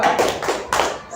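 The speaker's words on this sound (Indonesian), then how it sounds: "Tepuk jempol untuk kelompok 1." A classroom group does the tepuk jempol, a short rhythmic thumb-clap chant: three quick bursts of clapping in about a second, close and fairly soft.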